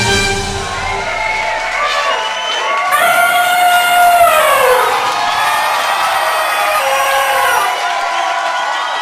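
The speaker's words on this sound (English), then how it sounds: "And the crowd cheers wildly" A crowd cheers and whoops loudly and steadily for the full stretch, with voices swelling in the middle and shouts rising above the roar.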